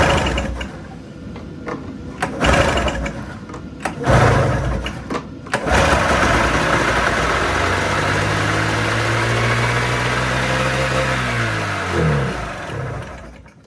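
A 1997 Arctic Cat 440 snowmobile engine being pull-started: a few rattling pulls, then it catches and runs with a loud buzzing two-stroke drone that rises and falls in pitch as the revs change, close by.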